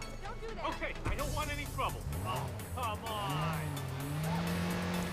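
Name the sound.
car driving in the video game Watch Dogs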